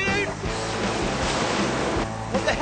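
Ocean surf breaks and washes in a rough, continuous roar with rhythmic surges, loud and close, with wind buffeting the microphone.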